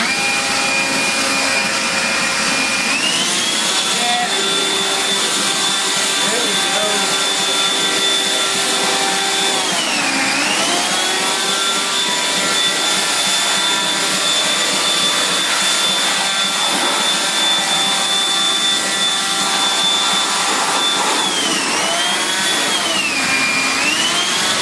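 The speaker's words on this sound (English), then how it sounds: "60 volt electric blower from Taryl, baby. And use it to blow this block off." A 60-volt battery electric leaf blower runs steadily and loud for the whole stretch, clearing debris off a Sears Custom 10XL engine block, its whine dipping and rising again twice as the throttle is eased off and back on.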